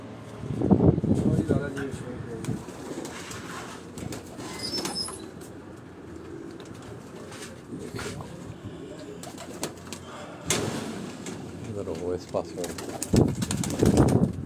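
Soft pigeon coos come and go beneath people talking nearby, with some rustling and background bustle.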